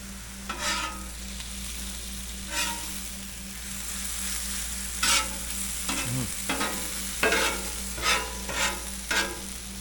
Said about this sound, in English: Mix up that American cheese a little bit.